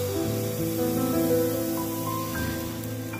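Oiled pan taking a spoonful of patishapta batter, a steady broad hiss of sizzling frying that swells slightly then eases, close and continuous with no voices.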